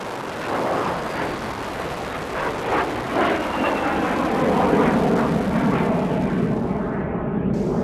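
A Tiger Moth biplane on a test flight, its engine droning steadily under rushing wind, loud and close throughout.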